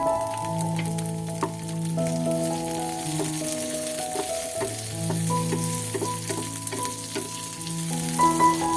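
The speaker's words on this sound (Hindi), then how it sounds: "ये ड्राई फ्रूट हमारे अच्छी तरह रोस्ट हो गए।" Dry fruits roast with half a spoon of sugar in a pan for Pakistani makhandi halwa, giving a steady sizzle and stirring under continuous background music.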